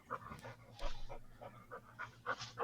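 A dog pants close by in quick, rhythmic bursts of breath, fairly faint and with no voices over it.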